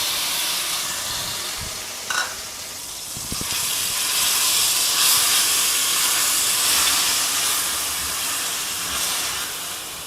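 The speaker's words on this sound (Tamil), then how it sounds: "பாருங்கள் நெய் சூடாயிடுச்சு. அடுத்தது நம்ம என்ன பண்ணுறோம், இந்த துருவி வச்சுருக்கோம்ல பெரிய வெங்காயம்," Grated large onion hits hot ghee for a shahi mutter paneer gravy, giving a steady, loud, hissing sizzle that stays strong throughout, with a faint knock early on and no voices.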